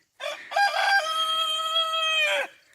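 A backyard rooster crows one long, loud, close call that holds steady for about two seconds, with a brief cluck-like rise just before it, amid egg-laying hens.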